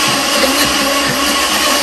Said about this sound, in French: Et là, je rebroie encore un peu.